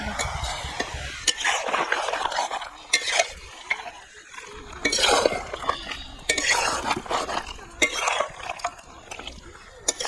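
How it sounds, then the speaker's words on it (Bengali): Village-style chicken curry with fried potatoes being stirred and scraped in a pot over a wood-fired stove, with irregular clanks of a spoon against the metal and soft sizzling between strokes, close and moderately loud. "এবার আমি ভেজে রাখা আলুগুলো দিয়ে দেবো মাংসের মধ্যে দিয়ে ভালোভাবে কষাইব মাংস"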